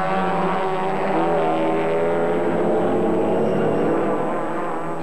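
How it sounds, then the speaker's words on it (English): A 55-car field of race cars roars off at the start of a 12-hour endurance race at Bathurst in the cold dark of 5 a.m., a dense, sustained wall of engine noise with layered harmonics, loud and steady throughout. "The dark and cold of Bathurst at 5 a.m. was broken with the roar of the 55-car field in a mad dash"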